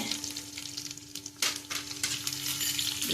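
Cumin, mustard seeds and fenugreek fry together in hot oil for a Tulu-style dish, giving a close, steady sizzle with crackling bursts and occasional stirring scrapes in the pan, and no talking.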